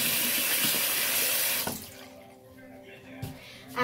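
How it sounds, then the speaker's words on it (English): Water tap running at a sink while hands are washed, a steady close hiss of flowing water for under two seconds that then shuts off, leaving quiet room tone with a couple of small knocks. "I better wash my hands now."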